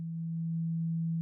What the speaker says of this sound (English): So this is what a sine wave sounds like.